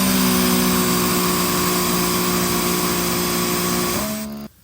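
A 2024 Ryobi battery-powered pressure washer running and spraying a metal pole barn, a loud steady motor whine with hissing spray that drops in pitch and cuts off at the end.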